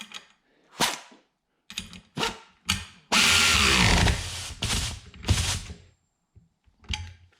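Aircat 1/4 inch air ratchet spinning a quarter-drive socket through an adapter: short sharp bursts of ratcheting and hissing air, then one sustained three-second run, with several brief clicking bursts before and after.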